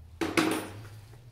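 Metal grates from a Weber charcoal grill lifted out and set down, giving two close clanks of metal in quick succession that fade into quiet.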